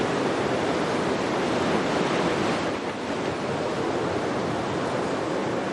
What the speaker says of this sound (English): Big goal for Italo, committing on this wave, is to improve his lead